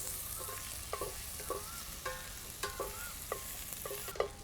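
Finely chopped onion frying with curry leaves for a Tulu-style chicken curry gives a soft, steady sizzle, broken by light clicks and scrapes of a spoon stirring the pan every half second or so.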